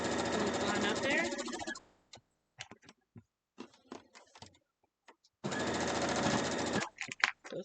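A sewing machine stitches fabric in two steady, loud, buzzing runs, the first at the start and the second near the end, separated by a quiet stretch of small clicks and handling noises.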